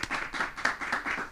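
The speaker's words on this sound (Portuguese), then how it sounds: "Recebam ele com uma salva de palmas" A few people clapping to welcome a guest on a podcast set, a short sparse run of distinct claps in an uneven rhythm, close and fairly quiet.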